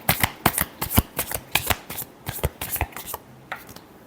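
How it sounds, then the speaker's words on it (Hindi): Tarot cards are riffled and shuffled up close in rapid, crisp bursts, a steady run of sharp flicking slaps over four seconds with no talking. "last shuffle"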